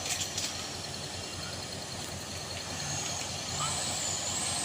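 A Mitsubishi L300 pickup truck engine strains while climbing a steep hill, a steady loud droning roar with a rising whine toward the end, heard close with background noise.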